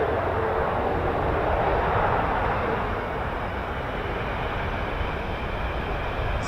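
A US Air Force C-130 taking off at RAF Mildenhall produces a dense, continuous propeller-engine roar, loud and unbroken across the whole stretch, with no talking.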